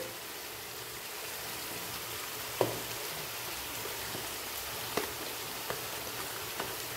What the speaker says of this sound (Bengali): এটাকে এবার সুন্দর করে কষিয়ে নেব